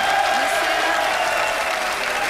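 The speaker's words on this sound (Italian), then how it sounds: "Hai avuto gli applausi anche dei direttori, come hai visto?" Studio audience applauding at an Italian football TV show celebrating Lazio's 2000 league title, a dense, loud, sustained burst of clapping that holds at a constant level throughout.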